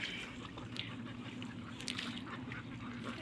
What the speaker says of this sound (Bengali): এই হাঁসগুলি